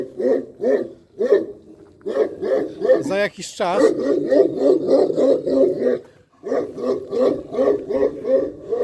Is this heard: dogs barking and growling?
yes